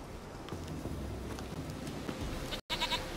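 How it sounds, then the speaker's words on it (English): A goat bleats in The Witcher 3: Wild Hunt, with a few short bleats over a low ambient rumble, ending in a sharper cluster of cries near the end. "Here, goat. Here, princess. Hoofed and horned."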